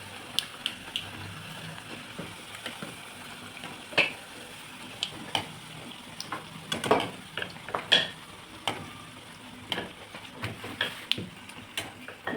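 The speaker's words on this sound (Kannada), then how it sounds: "ನೋಡಿ ಫ್ರೆಂಡ್ಸ್ ಈ ಥರ ಚೆನ್ನಾಗಿ ಫ್ರೈ ಮಾಡ್ಕೊತಾ ಇದ್ದೀವಿ" Pumpkin gargi fritters bubble in hot oil with a continuous close sizzle, broken by repeated clicks and scrapes of a ladle turning them, and livelier crackling bursts midway.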